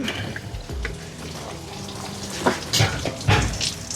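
Coolant sloshing and splashing out of a BMW N54 engine in a 335 being rebuilt, a continuous watery gush with louder surges near the end, close and alone.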